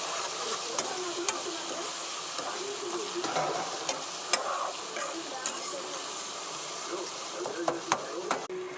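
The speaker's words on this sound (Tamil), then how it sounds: "நல்லா ஃப்ரை பண்ணிக்கலாம்" Steady hiss of sardine curry base frying in a pan, with occasional sharp clicks and scrapes of a utensil stirring throughout.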